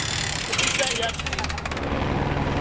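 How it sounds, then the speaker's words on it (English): A police helicopter's rotor chops steadily overhead above a lake near a bridge, a rapid fluttering beat over a low rumble, with voices talking underneath. "A police helicopter announced to boaters below the Pennybacker Bridge to get off the water"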